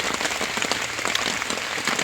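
Steady rain pours down outdoors in Colombia, a dense, even hiss of drops on surfaces that stays loud and unbroken throughout, with no voices.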